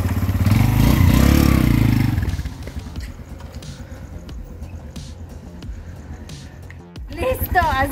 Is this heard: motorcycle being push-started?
yes